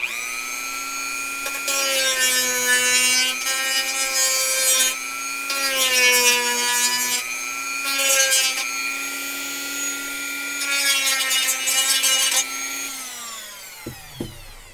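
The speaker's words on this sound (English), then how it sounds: "Dremel again, here we go." A Dremel rotary tool cuts into a plastic model kit part, a loud, high-pitched whine that rises and dips in bursts as the bit bites, then spins down and stops with a couple of clicks.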